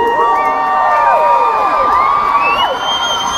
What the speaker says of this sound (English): big round of applause for the people who did the jump